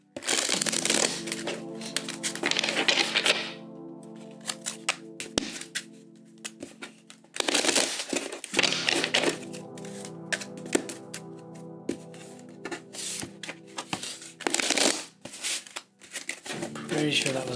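A deck of tarot cards being shuffled in several separate bursts of riffling and sliding, close and crisp, with a soft voice speaking between them and a steady tonal hum underneath.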